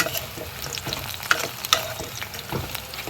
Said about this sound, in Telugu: బెండకాయలు ఈ విధంగా ఫ్రై అవ్వాలి